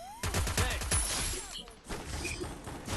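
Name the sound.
gunfire in video game Free Fire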